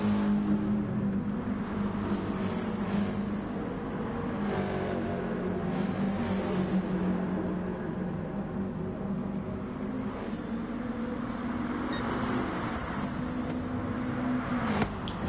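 Racing car engines in an FIA Nations Cup racing game, featuring Subarus and a Mitsubishi, drone and rev continuously at a steady middle distance, with shifting engine tones and no break.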